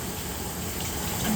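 Warm water runs steadily from a sink tap for a pre-rinse, a soft continuous stream at close range with no voices.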